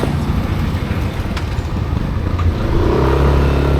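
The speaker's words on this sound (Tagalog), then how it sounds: "Ito may tricycle." A motorized tricycle passes along a neighborhood street, its engine a steady low drone that swells louder toward the end of the pass, with no talk over it.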